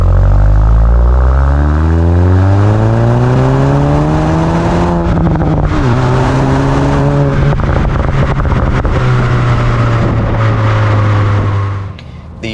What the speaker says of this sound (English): even in stock form, the exhaust on the Mark 8 is significantly louder than the Mark 7 was, and has a nicer tone to it as well